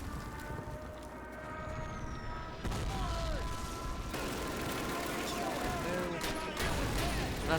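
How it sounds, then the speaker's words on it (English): A constant barrage of mortar explosions and gunfire fills a Call of Duty D-Day battle, with a heavy, rumbling din throughout and a voice talking over it. "Mortars are going to town on us."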